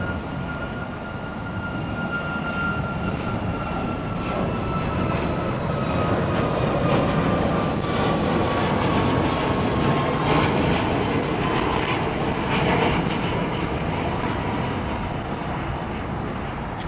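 A Boeing 737 MAX jet roars steadily on departure from Heathrow, its engine noise building and holding loud for the whole stretch with a slowly falling whine, no voices over it.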